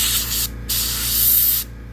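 Aerosol paint sprays in short hissing bursts while a miniature is being painted inside a box that catches the back spray. There are two bursts with a brief gap between them, close and fairly loud, over a low hum.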